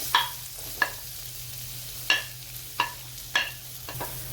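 Onion stirred in melted butter in a wok hisses with a steady, quiet sizzle, broken by about six sharp scrapes and clinks of a spoon at irregular intervals.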